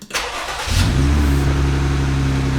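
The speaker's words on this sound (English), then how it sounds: "and then all you need to do is start the engine." A Jeep Wrangler engine cranks briefly after battery replacement, then catches and settles into a steady, loud idle with a low rumble close by.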